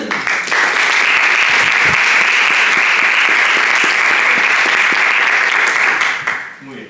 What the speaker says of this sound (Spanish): vamos a saludarlo con un aplauso